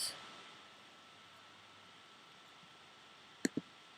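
Two quick mouse clicks close together near the end of an otherwise quiet stretch of faint room hiss, made while editing in iMovie.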